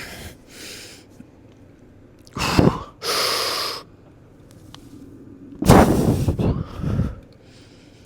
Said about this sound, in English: Just so I'm not breathing into the mic